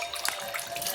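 Tap water running into a kitchen sink while things are washed, a steady close splashing rush with faint dripping, heard alone.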